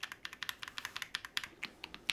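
Brisk, close typing on a computer keyboard, a quick run of sharp, pronounced clicks with a few heavier strokes, uninterrupted by voices.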